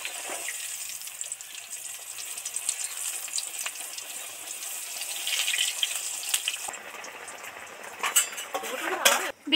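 Eggplant pieces deep frying in oil for a Bengali fish curry, a steady close sizzle and crackle with occasional utensil clinks.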